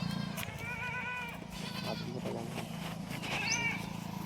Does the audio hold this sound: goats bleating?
yes